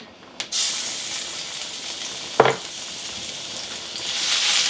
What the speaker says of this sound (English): now I'm going to add 3 cloves of garlic